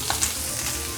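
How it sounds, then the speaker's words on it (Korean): Seafood sizzling in a hot pan as carrot, onion, cabbage and green onion are stir-fried together for yaki udon, a steady close crackle with a few scraping stirs. "대파 넣고 얘네도 같이 볶아주세요."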